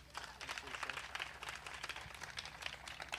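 An audience at a groundbreaking event in Detroit claps, a quiet, steady patter of many hands lasting a few seconds, heard from a little distance.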